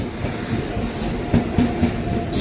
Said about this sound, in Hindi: सामने से आ गई भाई मर्धर एक्सप्रेस BEP 7 के साथ